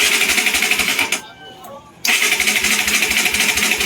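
Rouser NS 200 fuel-injected motorcycle engine running with a loud, steady rapid chug, cutting out for about a second before catching again and continuing close by.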